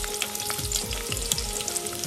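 Chopped onion drops into hot oil in a pan over a wood-fired village stove for mutton curry, setting off a steady, close crackling sizzle with no talk.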